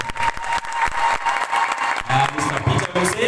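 A crowd claps for arriving guests at the Mading Aweil community inauguration. The clapping is loud and crackling, with scattered cheers and voices mixed in, and it continues under a speaker's amplified talk.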